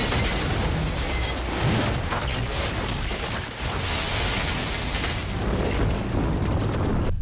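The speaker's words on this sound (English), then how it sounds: "A massive explosion detonated in the Russian facility underneath." A massive explosion deep in a Russian facility beneath a shopping mall, a continuous loud roaring boom and rumble of collapsing structure that fills the whole stretch with dense, sustained noise and a brief dip midway.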